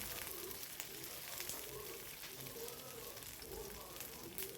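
Onion and garlic fry in a pan, giving a soft, continuous sizzling hiss with faint crackles that stays fairly quiet and even the whole time.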